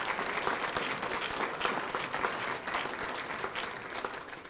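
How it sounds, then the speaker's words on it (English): A big crowd applauds at an airport welcome in Albuquerque, sustained and densely packed clapping that rolls on without pause, moderately loud and unaccompanied by talk. "let us give you a round of applause for just great support"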